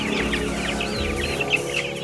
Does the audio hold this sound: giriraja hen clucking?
yes